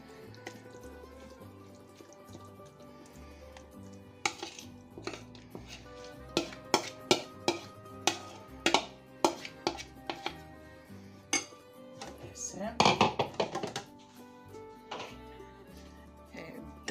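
Tuna being crumbled for a pasta salad in a kitchen: sparse clinks and taps of utensil on bowl, with a short cluster of scraping and mashing near the middle, close and fairly quiet.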